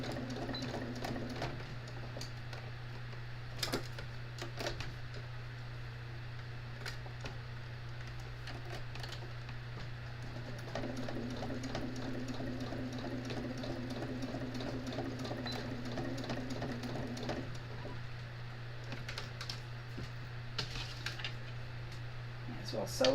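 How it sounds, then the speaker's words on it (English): A sewing machine stitches fabric in a steady, continuous mechanical hum and needle patter that runs throughout at moderate volume, with a few clicks and handling noises along the way. "I'll sew this one and not cut my thread, just keep right on trucking"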